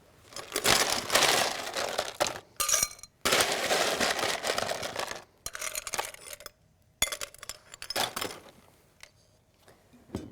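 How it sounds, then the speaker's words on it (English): Ice cubes tumble and clatter into a drinking glass in several bursts with short pauses between, the crunching and clinking close and fairly loud, and no voices over them. "Next, we're going to take our glass and fill it up with ice."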